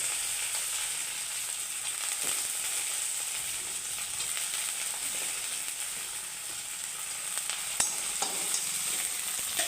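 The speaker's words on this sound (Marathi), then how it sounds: "कांदा छान लालसर भाजून घ्यायचा आहे." Chopped onion fries in oil in a pan, giving a soft, even sizzle with occasional light stirring taps and clinks, heard up close at low volume with no voices.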